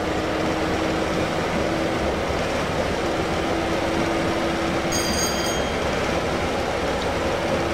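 A Class 101 diesel multiple unit picks up speed on the line between Manchester and Liverpool, a steady loud engine drone and rolling rumble with a sustained tone running throughout and a brief high whine near the end.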